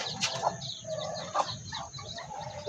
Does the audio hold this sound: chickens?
yes